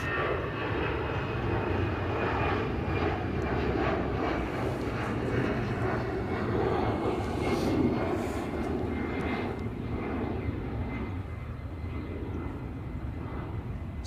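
An EasyJet Airbus airliner at the Airbus factory in Toulouse roars steadily with loud, sustained jet engine noise, swelling slightly midway and then easing off.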